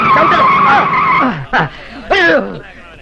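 A car brakes hard, tyres squealing and skidding in short bursts amid loud, excited voices shouting over the noise.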